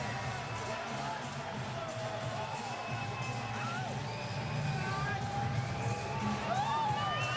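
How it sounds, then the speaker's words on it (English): Crowd at a Mike Tyson exhibition boxing match, a distant continuous roar of cheering with scattered whoops and shouts, heard under a commentator's voice. "listen to the crowd for the former heavyweight champion of the world"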